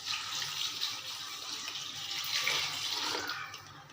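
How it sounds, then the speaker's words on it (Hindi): Water pours steadily into a pressure cooker holding beef and lentils, a continuous splashing rush that swells slightly midway, fairly close and with no talk over it. "अब मैं इसमें पानी डाल रही हूँ।"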